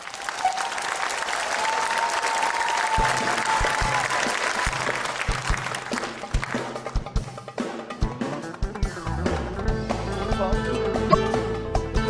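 Audience applause opening a karaoke segment at a live comedy show, a steady loud clapping for about three seconds, then scattered claps and cheers as music and singing begin.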